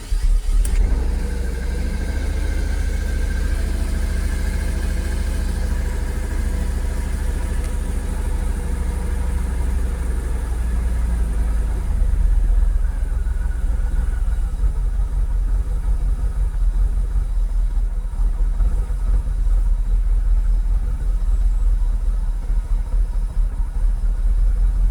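A Jaguar XKR X100 engine cranks and fires up, then settles into a steady close idle that continues alone for the rest of the time.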